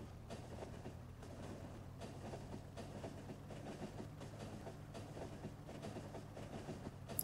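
Train running on rails in the Factorio video game, a steady rolling rumble with rhythmic clickety-clack beats repeating throughout, moderately quiet and alone without talk.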